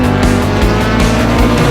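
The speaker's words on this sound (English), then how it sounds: "Civic's a very, very competitive car." Honda Civic race car in an improved production race at Morgan Park circuit, its engine loud and close with a strong droning note and rhythmic rev changes through gear shifts.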